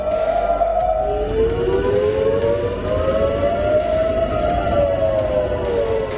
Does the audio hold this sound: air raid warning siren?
yes